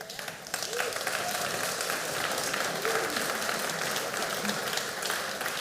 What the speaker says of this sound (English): The applause is for you.